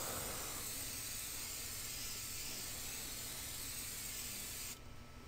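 A light coating spray hisses steadily onto a 3D printer bed, one continuous near aerosol burst lasting about five seconds before it drops off.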